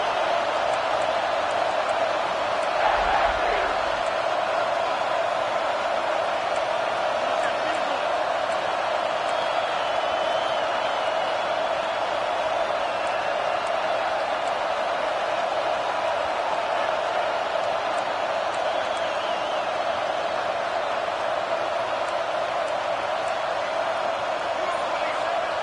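Steady stadium crowd roar fills a football game as the offense lines up to go for it on fourth down, a loud continuous wash of noise with a commentator talking over it throughout.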